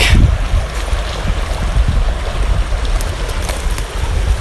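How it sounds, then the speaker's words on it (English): Water runs through a small creek with a steady, broad rushing noise and some wind buffeting the microphone, with no voices. "there is quite a bit of water running through this creek"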